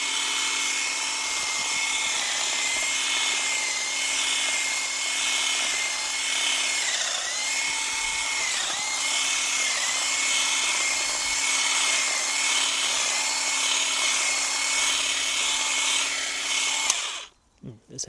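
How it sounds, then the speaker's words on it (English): A power tool used as a hedge trimmer cuts back an overgrown garden hedge. Its steady, close, whining motor drone runs continuously before cutting off abruptly at the end. "I've got this as sort of a hedge trimmer. I'm going to give it a try"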